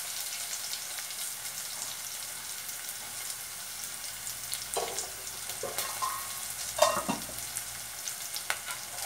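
Sliced onion fries in a pan, a soft continuous sizzle with brief stirring scrapes and clinks growing busier toward the end.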